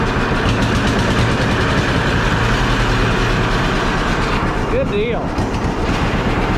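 An old engine runs at a loud, steady idle close by after a carburetor adjustment, with a continuous rumbling chug, and someone speaks briefly over it.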